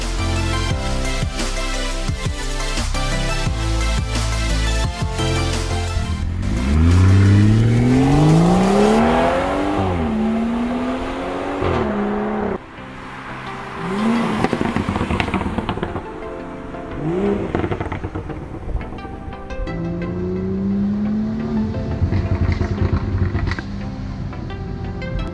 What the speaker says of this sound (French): Cette 340i a une belle sonorité, un échappement encore plus feutré et plus élégant que la M3